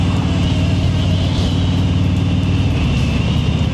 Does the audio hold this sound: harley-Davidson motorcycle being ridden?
yes